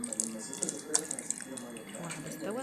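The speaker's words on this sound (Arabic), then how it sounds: "استنى يا حنا عشان اقول لك تحط الميه" Water is poured over a marinated roasting chicken, a light splashing trickle under a voice talking.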